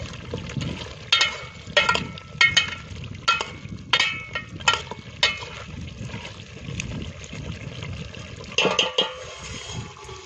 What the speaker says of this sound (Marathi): आता हलवून घेऊया आपण